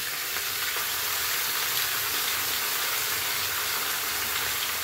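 Mustard, poppy seed and green chili paste fries in a pan with raw hilsa fish, giving a loud, steady, close sizzle and hiss that runs unbroken with no talking.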